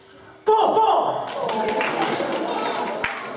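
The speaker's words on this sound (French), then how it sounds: "Il y a des gens qui applaudissent." Sudden burst of audience clapping at a live magic and juggling comedy show, breaking in loudly after a brief spoken moment and continuing as a steady patter of many hands.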